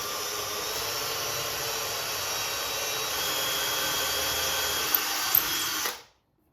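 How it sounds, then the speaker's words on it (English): A power drill bores a hole into a wooden drawer during a chalk-paint furniture makeover, giving a steady, loud, close whine that holds evenly for about six seconds before cutting off abruptly into silence. "So I'm going to go in now with the drill"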